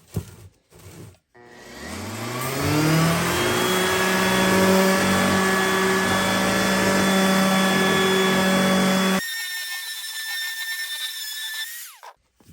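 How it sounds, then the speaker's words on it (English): An orbital sander with 220-grit paper whirs up on a steel rocking chair, runs with a steady tonal whine and grinding hiss for several seconds, then cuts off, leaving a faint ringing tail. "we're going to go over it with the orbital now with 220"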